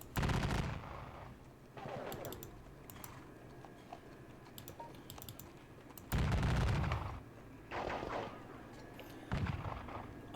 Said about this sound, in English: these boys are going to start pouring out their gunfire